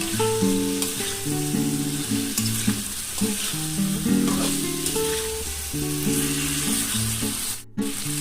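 Jackfruit pieces coated in spices sizzle and fry steadily in a pan for an Echor Chingri dish, with occasional stirring scrapes and no talk.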